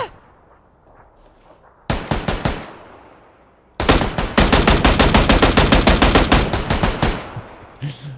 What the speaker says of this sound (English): I'm just letting him shoot me. He has a shotgun.